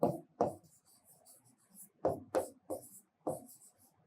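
A Bengali sentence is handwritten in short, quiet bursts of scratchy strokes, each quick scrawl followed by a brief pause.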